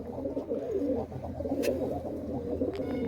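Pigeons cooing steadily in a loft, a layered murmur of low, throaty coos that runs continuously and fairly close, with a few faint higher chirps over the top.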